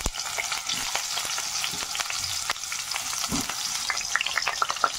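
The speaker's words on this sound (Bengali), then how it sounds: "এবার আমি আলুগুলোকে ভেজে নিই।" Potatoes fry in hot mustard oil with a steady, close sizzle, broken by occasional scrapes and clinks of stirring.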